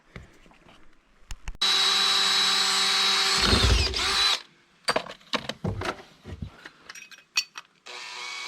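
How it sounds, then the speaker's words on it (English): A power drill bores holes into a plastic septic tank during an Advantex pretreatment system install: a steady loud whine for a few seconds, then a series of shorter bursts and stops as the bit starts and releases. "time to drill some holes in this thing"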